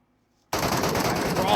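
In PUBG Mobile, rapid automatic gunfire bursts in abruptly after a moment of silence and continues as a dense, loud rattle of shots.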